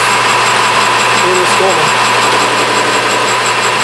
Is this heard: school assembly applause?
no